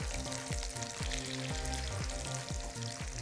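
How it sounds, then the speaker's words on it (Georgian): Tuna steaks of about 150 grams fry in garlic butter in a pan, giving a steady close sizzle with a low rhythmic thumping pulse underneath and no speech. "გადმოვიტანოთ ტაფაში თინუსის სტეიკები."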